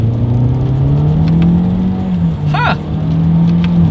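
A 2023 Toyota Corolla Hatchback in manual shift mode accelerates from first gear, its engine drone rising steadily and loud throughout, with a brief dip and a short spoken exclamation midway.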